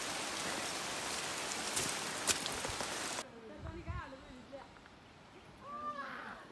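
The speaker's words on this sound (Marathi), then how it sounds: "पाऊस चालू आता मजा येईल" Rain falls steadily during a trek up Mahuli Fort, a dense wash of patter that stops abruptly partway through, leaving quieter outdoor ambience with faint voices and movement.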